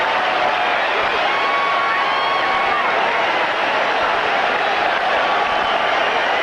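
A Fenway Park baseball crowd roars and cheers steadily during a Devil Rays at Red Sox game, a dense, continuous stadium wash with faint whistles rising through it and a commentator's voice low in the mix.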